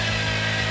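A Honda Ruckus scooter engine runs hard at high revs, a loud, steady, buzzing drone heard up close with no talking.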